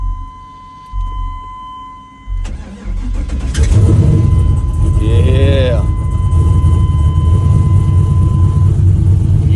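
Turbocharged 6.0 V8 swapped into a Sonoma/S10 truck cranks and fires up, then settles into a loud, lumpy idle with a brief rev and turbo whine; a short spoken word comes near the start.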